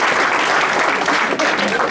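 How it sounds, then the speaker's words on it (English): Applause from the audience at a park district volunteer and patron reception, dense clapping from a crowd filling the room, loud and even for a couple of seconds. "let's start off with a round of applause for yourselves"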